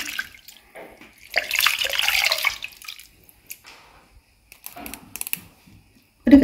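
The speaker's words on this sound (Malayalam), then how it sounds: "ഇത് മിക്സീൻ്റെ ജാറ് കഴുകിയ വെള്ളമാണ്." Water left from rinsing a mixer jar is poured into a tomato rasam in a home kitchen: a brief splashing gush, then scattered drips and light clatter.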